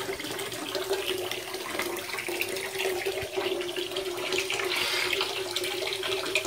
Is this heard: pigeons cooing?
no